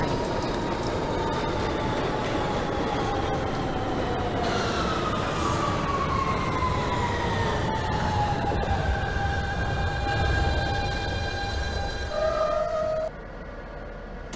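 In the OpenBVE train simulator, an R160B Siemens subway train on the New York Q line rumbles steadily with rising and falling whining motor tones, wheels clattering, before the drone cuts off abruptly near the end.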